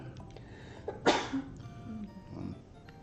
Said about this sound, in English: Now we got sneezes forever on this stream.